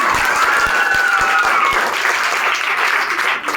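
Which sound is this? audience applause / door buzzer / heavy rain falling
audience applause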